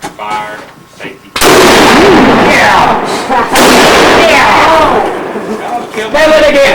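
Rifle shots ring out on a scout ranch shooting range, loud close bangs with long echoing tails over a noisy outdoor crowd, with people talking throughout.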